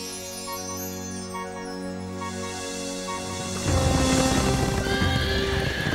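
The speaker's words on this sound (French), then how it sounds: "Salomon possédait des milliers de chevaux." Horses neigh and whinny while hooves clip-clop, growing louder and busier partway through, with several animals close by and no speech.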